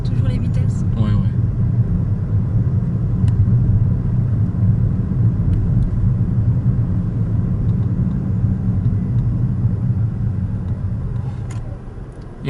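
Steady low rumble of a car interior during a driving lesson in an automatic-transmission car, a continuous engine and road drone throughout with a brief voice near the start and a slight fade at the end.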